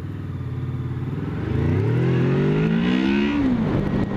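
A Honda VFR800X Crossrunner accelerates hard as its VTEC engages, the engine note climbing from a low rumble into a sharper, rising snarl that peaks and drops near the end, close and fairly loud.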